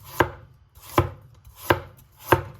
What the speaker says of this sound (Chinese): 然后再准备一根削过皮的胡萝卜，改刀给它切成薄薄的厚片